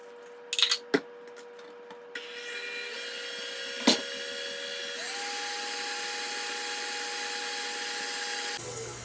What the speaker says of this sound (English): I'm gonna put them in my mixer and mix them together.